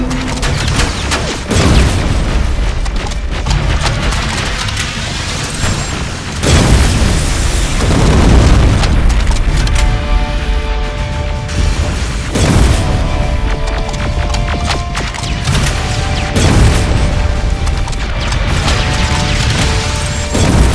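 Heavy booming blasts and crashing metallic wreckage as a T-47 war machine is destroyed in the Terminator: Resistance shooter, with loud repeated explosions rolling over a dense, continuous battle din.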